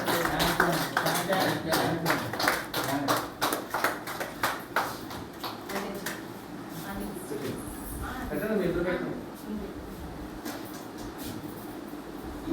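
People at an ashram clap together to thank donors, a burst of sharp overlapping claps for several seconds that then fades, followed by someone talking over a room hum.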